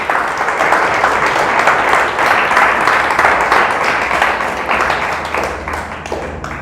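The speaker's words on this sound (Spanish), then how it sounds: "Le damos un aplauso a Dios." A church congregation at a Spanish-language Christmas service breaks into sustained, dense applause that holds steady for several seconds before thinning out.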